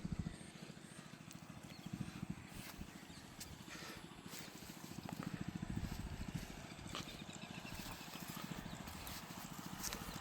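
Cattle hooves walking past on a farm field in Madduvil, near a stone well used to irrigate traditional brinjal crops, make a steady, continuous clip-clop close by, with no talk.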